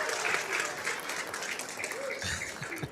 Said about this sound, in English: And pass up on this applause?